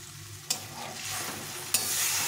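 Hot water goes into sizzling masala in a pan for a katla fish curry, setting off a sudden loud hiss that surges again a second later and then simmers on.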